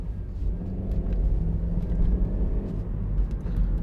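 A 2011 Honda CR-Z 1.5 IMA Sport hybrid pulls away with a steady low engine and road rumble heard from inside the cabin, continuous and fairly loud, without speech.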